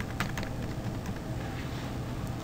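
Keys pressed on a computer keyboard in quick, uneven bursts of close clicking taps, steady and moderately loud with no one speaking.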